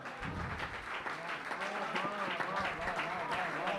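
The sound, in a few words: audience applause at a Hindi poetry recital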